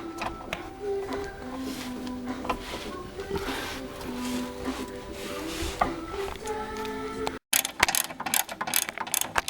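A hand ratchet clicks in quick, repeated bursts while removing steering rack bolts on a car, close and fairly loud, pausing briefly before a few sharper clicks.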